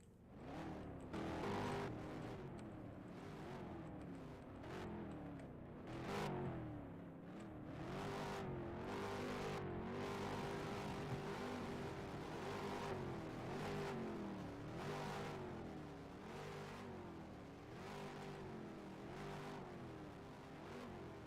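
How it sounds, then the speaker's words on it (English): Race car engines of NW Ohio ROX modified stock cars starting and revving at a track, a dense rumbling drone with repeated rising and falling rev sweeps, loud and continuous with no talk. "So drivers that are ready, please start your engines."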